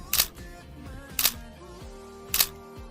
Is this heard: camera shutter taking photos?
yes